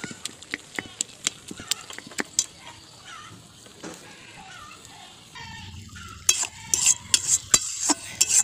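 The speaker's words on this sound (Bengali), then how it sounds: "দেখো চামচ দিয়ে ভালো করে গলিয়ে নিলাম" A spoon stirs and mashes boiled potatoes in a pan for a vegetable curry, making rhythmic close scraping taps that quicken and grow louder toward the end.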